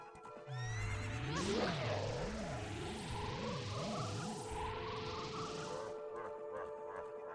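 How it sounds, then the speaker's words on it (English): A horse whinnies loudly and emerges from a painting in Zelda Ocarina of Time, a warbling neigh with trailing galloping effects, heard alone against quiet game ambience. "We're listening for the hoof prints, following them, and that's how we know which painting he's coming out of."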